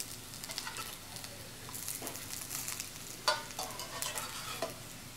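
Teff sausages fry in a pan with a soft, fairly quiet steady crackle and sizzle, plus a few brief sharper pops and one clack near the end.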